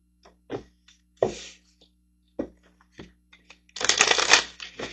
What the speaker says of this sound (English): So let's get some manifestation cards over here